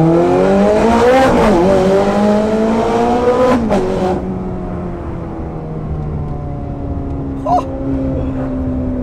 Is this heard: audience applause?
no